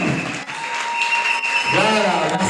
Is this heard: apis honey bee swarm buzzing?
no